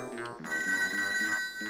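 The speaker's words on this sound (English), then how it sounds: "You got a phone, answer it." Telephone in the ToeJam and Earl video game rings in repeated electronic trilling bursts over bouncy game music, fairly loud and close.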